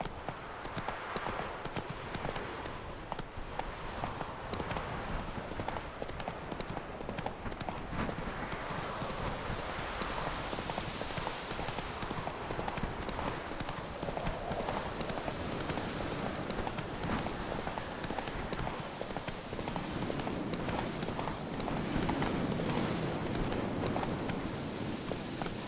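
Hooves of a horse in The Witcher 3 clip-clop in a steady galloping rhythm throughout, close and continuous over a bed of game ambience.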